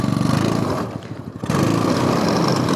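A go-kart on duct tape tires driving through mud, its small engine buzzing loudly and close, with a brief dip in revs before it picks back up.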